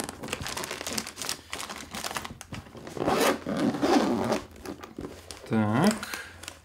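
Packaging of a Sony video-blogger kit being unpacked: crinkling, tearing and rubbing of wrap and paper in irregular bursts, close and fairly loud, with someone speaking briefly under the handling.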